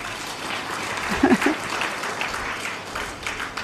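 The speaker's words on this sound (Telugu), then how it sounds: "చప్పట్లు కొట్టాలి." An audience at a Brahma Kumaris spiritual class claps in a sustained patter of applause that rises briefly partway through and then continues at a moderate level.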